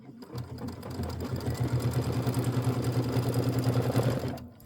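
An embroidery machine stitches a navy-toned denim thread design for a snowy decorative hot pad, a steady fast mechanical whir with rapid needle pulses running close and continuous for several seconds before stopping, with no talking.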